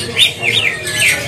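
Green leafbirds (cucak hijau) in a bird shop give three short, bright, rising chirps in quick succession, close and fairly loud over faint background noise.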